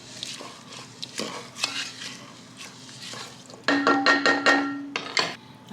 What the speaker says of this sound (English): we're gonna throw some ground cumin into the pot. Give it a stir.